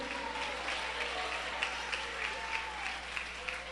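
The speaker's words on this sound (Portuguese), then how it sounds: "Aplaude o nome de Cristo." A church congregation claps together in steady applause, a dense wash of hand claps with a few sharper peaks, mid-distance and moderately loud throughout.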